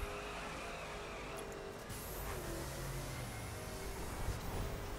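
A Corvette Stingray driven in The Crew, its engine droning steadily under a dense wash of road and tyre noise, with faint rising whooshes and a brief squeal, fairly quiet throughout.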